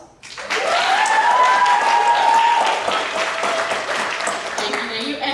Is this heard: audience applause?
yes